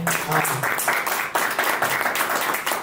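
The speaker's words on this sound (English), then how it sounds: "maybe a big round of applause for our panel tonight" Applause from an evening audience for a panel on solar-led electrification with Bitcoin, a continuous wash of clapping at moderate volume filling the short span, with some talk underneath.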